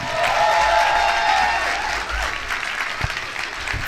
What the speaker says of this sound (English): Would you give Rokia and her helper one more big round of applause?